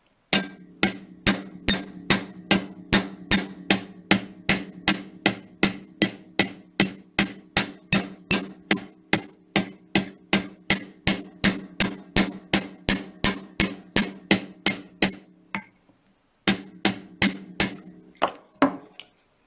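A small chasing hammer strikes metal wire in a steady rhythm, dozens of sharp ringing taps close up, with a brief pause near the end.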